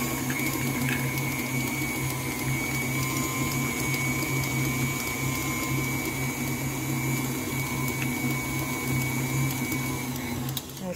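Electric mixer creaming butter for red velvet cake batter, a steady continuous motor whir with a low hum, loud and close, running unbroken throughout without pauses.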